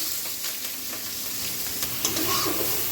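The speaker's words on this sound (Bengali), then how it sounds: "ওই তেলেই আমি কিন্তু দারচিনি এলাচ এগুলো দিয়ে দিয়েছি আর দিয়ে দেবো হচ্ছে পেঁয়াজ রসুন" Onion, garlic, cinnamon and cardamom frying in hot oil, a steady close sizzle with a dense hiss throughout and a brief louder crackle near the end.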